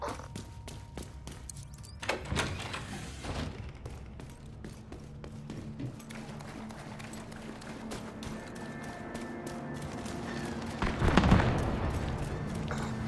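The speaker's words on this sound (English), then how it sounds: "These explosions are really messing up the park." Explosions and gunfire in The Division 2 at a Coney Island amusement park, with heavy thumps and booms scattered through a dense, continuous din and a louder blast near the end.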